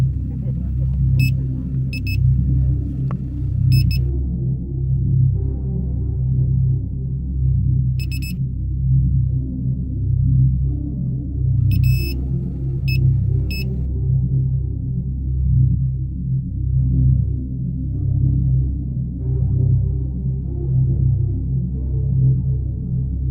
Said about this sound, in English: a manual electronic device, which beeps when its signals detect the presence of metal